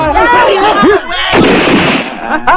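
A gunshot cracks sharply in a war film about an Indonesian independence battle. Shouting voices surround the blast, and a second short burst follows near the end.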